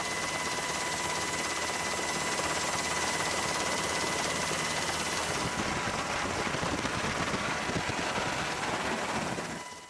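A Northrop Grumman X-47B unmanned carrier-based combat aircraft produces a loud, continuous jet engine roar with a steady high whine, holding at constant intensity and fading out slightly at the very end.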